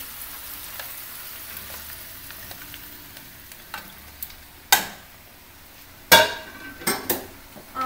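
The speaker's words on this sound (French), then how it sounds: "Quand on a fait dorer le bœuf, on vient l'ajouter avec l'oignon." Browned beef and onion sizzle steadily in a pan for a Hungarian goulash, with a soft continuous frying hiss broken by several sharp scrapes and clanks of a utensil against the pan toward the end.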